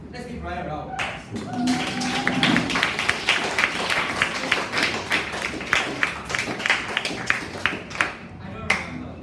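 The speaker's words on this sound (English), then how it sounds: "Ryan a round of applause." A classroom round of applause during a physics lesson on light refraction: a dense run of hand claps fills the room for several seconds, some claps sharper and nearer, with voices murmuring at the start.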